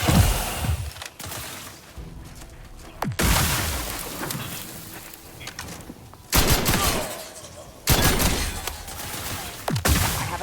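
Video-game gunfire from The Outer Worlds 2 erupts in loud, rapid bursts of shots, several separate volleys breaking in sharply between short lulls, with no talking over them.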